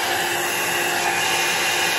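Hair dryer blowing air over an alcohol ink abstract painting, a steady close whoosh with a whine on top, unbroken throughout and with no voices.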